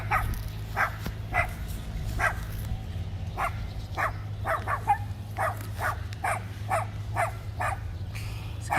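A farm puppy barks repeatedly in short, evenly spaced yips and woofs at moderate distance, over a steady low background hum.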